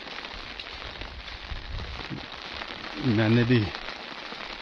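Steady rain patters on umbrellas along a mountain path in Siran Valley, Mansehra, a continuous hiss under the walkers, with someone speaking briefly near the end.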